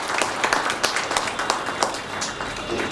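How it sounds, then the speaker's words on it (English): Audience applause for guest speakers at a school orientation programme for Class I, a dense sustained patter of many hands clapping in a hall, steady and moderately loud with faint crowd murmur. "So let's give a bigger round of applause to all the"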